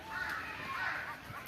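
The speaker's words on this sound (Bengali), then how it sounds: "উপরে পাখি ডাকে" Crows caw overhead outdoors near water and banana trees, a few harsh calls rising over a faint background hum.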